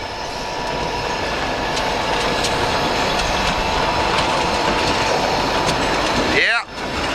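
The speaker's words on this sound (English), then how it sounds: "Lake Superior Railroad heading south." A Lake Superior Railroad train heading south in a snowstorm near Randville, Michigan rumbles past steadily, a loud continuous roll with faint clickety-clack and brief wheel squeal, ending in a sudden swooping whoosh.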